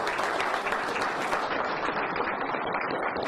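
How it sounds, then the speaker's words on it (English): Audience applause at a press conference announcing a new college head football coach, steady dense clapping filling the room throughout before thinning slightly toward the end. "You can clap."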